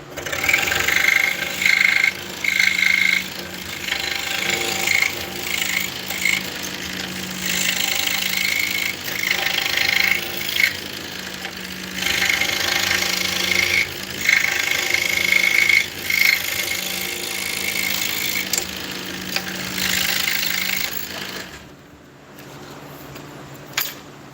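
A 21-inch saw runs with a loud, rough mechanical clatter and drone that surges and eases in waves, then drops away near the end.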